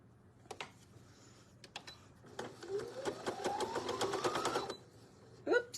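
A sewing machine stitches a patriotic rag table runner in a steady burst of close, rhythmic mechanical stitching that winds up in pitch, after a few scattered clicks and before a brief stop.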